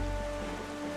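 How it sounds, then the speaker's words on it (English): Steady rain hiss in a sailing adventure video game, a dense even wash of drops pattering on a surface with a low rumbling bed and faint tonal hum, continuous and unbroken throughout, with no talking. "Why is it raining all of a sudden?"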